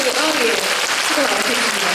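Audience applause at an education office concert honoring happy-school principals, a dense continuous clatter of many hands in a hall, with a voice speaking over it.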